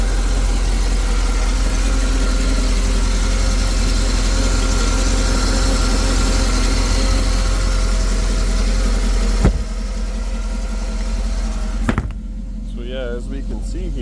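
A used wakeboard surf boat's engine runs steadily at idle, a loud constant low drone that cuts off sharply near the end, leaving quieter background with a few knocks.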